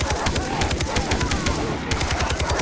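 Sustained rapid machine-gun fire in the video game Far Cry 3 while attacking an outpost, loud fast rhythmic bursts filling the whole stretch.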